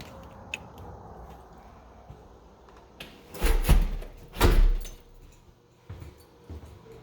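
An apartment back door opens onto a fenced backyard: a few quiet handling clicks, then two louder thuds and rattles of the door moving, followed by faint knocks in a quiet room.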